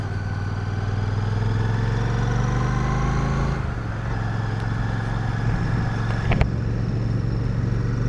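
Royal Enfield Classic 650 motorcycle engine running steadily while riding on a cold February morning, a continuous close mid-pitched drone that shifts briefly near the middle, with a small click or knock toward the end.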